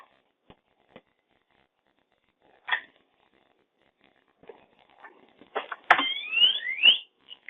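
A CM-50 robot controller's buzzer plays a short electronic melody: sparse beeps at first, then a denser run of rising, warbling tones near the end, with quiet gaps between.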